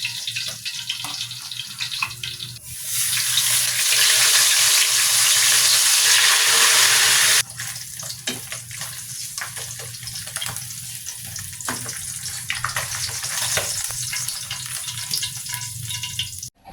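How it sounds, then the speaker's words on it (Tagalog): Milkfish (bangus) frying in hot oil in a pan, a steady close sizzle that swells into a loud, dense crackle for several seconds before settling back to a softer continuous frying hiss, with no talking. "Painitin muna natin na maigi yung kawali at mantika bago natin ilagay yung bangus para hindi dumikit."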